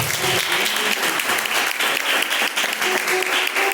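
Church congregation applauding in praise during a service, steady dense clapping throughout, loud and continuous, with faint voices beneath.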